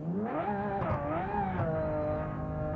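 A modded Lamborghini Aventador engine in the driving game BeamNG.Drive revs up and down in smooth rising and falling sweeps, loud and close, with no talk over it.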